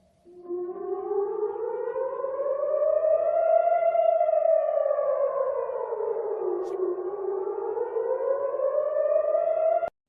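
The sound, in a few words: civil defense rocket warning siren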